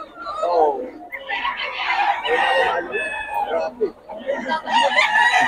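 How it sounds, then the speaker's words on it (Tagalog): Gamecocks crowing and clucking together at a rooster farm, loud and close, one crow following another. "Mga manok ni Boss Gaga mga idol."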